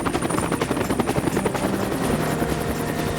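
A military chopper loading evacuees roars close and loud, its rotor beating in a fast steady rhythm with dense engine noise throughout and no talk.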